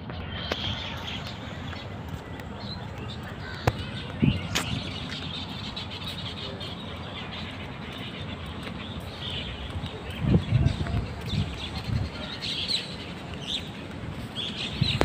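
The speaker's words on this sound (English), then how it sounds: "The birds." Birds chirp and tweet faintly throughout an evening walk in a park, scattered calls over a steady outdoor hum with occasional thumps and brief passing noises.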